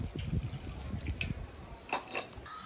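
Water pours into a pot while cooking a sudai fish curry with raw mango, a soft, low trickle and drip running steadily through the short stretch with no voices.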